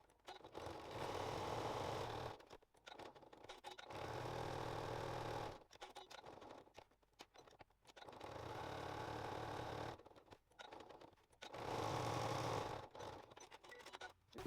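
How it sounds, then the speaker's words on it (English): Sewing machine top stitching the top edge of a fabric weekend bag, four loud close bursts of rapid steady whirring, each about two seconds long, separated by short quiet pauses, no talk. "we're just going to top stitch the top edge"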